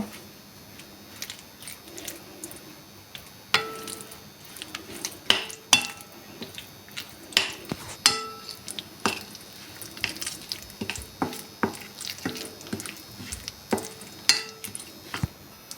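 Spoon or hands working a lamb chop marinade with mustard oil in a bowl, producing irregular clinks, knocks and scrapes against the dish over a quiet background.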